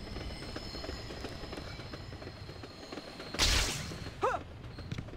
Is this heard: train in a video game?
yes